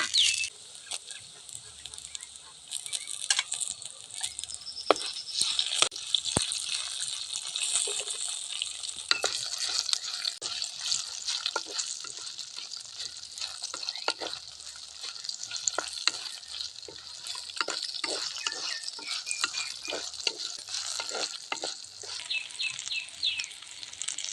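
Chillies frying in a pan for tomato chutney, a continuous bright sizzle and crackle broken by frequent scrapes and knocks of a stirring spoon against the pan, close and moderately loud throughout.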